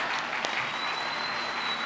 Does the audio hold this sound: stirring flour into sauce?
no